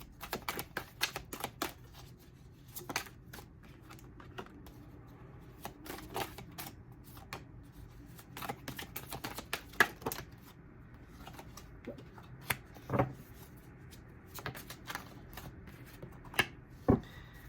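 Tarot cards are shuffled and drawn on a table in quiet, close snaps, flicks and soft slaps, arriving in irregular clusters with short gaps between them.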